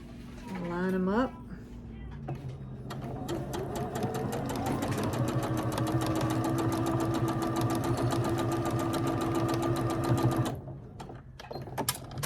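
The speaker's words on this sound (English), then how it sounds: "stitch a 1/4 inch seam" Sewing machine stitching a quarter-inch seam joining quilt block pieces, a fast steady mechanical whir with rapid needle ticking, running alone for several seconds after a short voice and then stopping.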